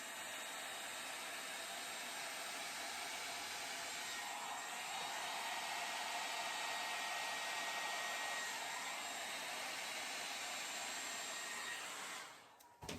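A steady stream of blown air pushes thick acrylic pour paint, giving a loud, continuous hiss and rush like a hair dryer close by that runs about twelve seconds and then cuts off.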